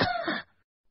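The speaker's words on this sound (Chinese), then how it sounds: "安炳山忍不住咳嗽了两下。" A single short, close cough from a narrator in an audiobook, lasting under half a second and then fading into silence.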